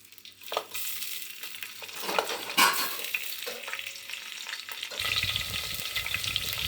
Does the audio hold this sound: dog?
no